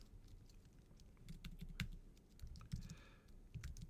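Quiet, steady typing on a computer keyboard: a quick, uneven run of soft key clicks with a few louder taps, heard alone and at low level.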